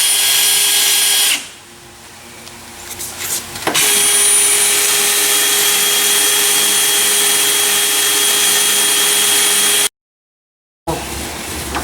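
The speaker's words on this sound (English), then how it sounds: "I hate drilling holes in a brand new bed." A power drill bores holes into a bed frame in loud, sustained whining runs, with a short pause and a brief restart near the end, close up.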